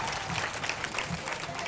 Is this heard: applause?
yes